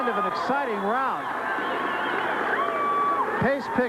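Spectators at an Arizona State featherweight boxing match cheer with rising, wavering whoops and yells over a busy crowd murmur, several voices swooping up and down in quick bursts.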